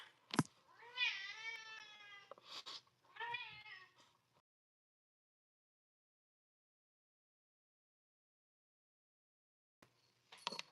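A cat meows close by in a quiet room: a long drawn-out, wavering meow after a sharp sound, a couple of shorter calls, then a long silence before faint brief noises at the end.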